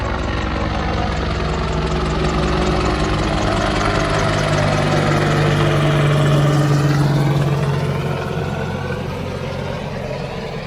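A loud engine roar swells and fades over several seconds, with a steady low hum and droning tones, like aircraft passing close overhead.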